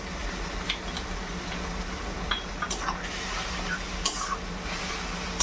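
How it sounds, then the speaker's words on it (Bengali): Ginger, garlic and green chili paste with Kashmiri chili powder, hot chili powder and cumin powder fries in a pan for street-style biryani, giving a steady close sizzle broken by a few scrapes and clicks of stirring, no talking. "এই সমস্ত কিছু একটুখানি 2-3 মিনিট একটু কষিয়ে নেব"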